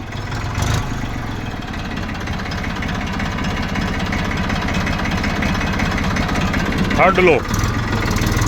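A tractor engine idles on a sugarcane farm in cold weather, its steady low mechanical rumble running throughout while someone talks over it close by.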